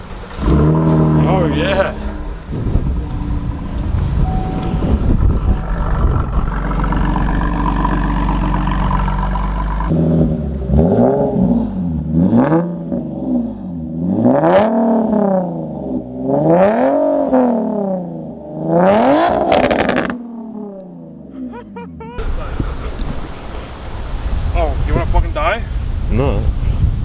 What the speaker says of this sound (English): See the Camaro RS start up.